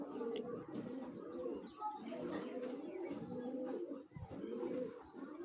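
Pigeons, including a female, coo in low, soft, repeated throaty phrases, close and continuous in an enclosure, with faint chirps mixed in.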